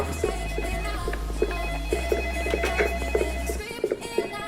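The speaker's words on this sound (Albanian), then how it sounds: "Kape të telefonin tash. Kape telefonin." A telephone rings repeatedly at a firefighters' workplace, a steady electronic ring pulsing over a low hum, with no talk in between.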